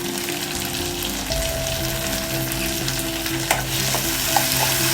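Chopped tomatoes sizzle with softened onions in a pan for a stuffed bitter gourd dish from Assamese cooking, a steady close frying hiss with a few light stirring clicks and no talking.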